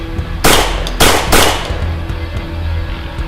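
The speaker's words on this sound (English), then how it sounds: "I will shoot you!" Three sharp gunshots crack in quick succession, loud and close, each a sudden broadband burst with a short decay, followed by a quieter scattered report or two.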